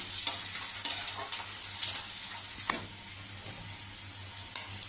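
Onions fry with whole garam masala in a pan, a soft steady sizzle broken by a quick series of scraping stirs early on, then quieter frying, heard up close without speech.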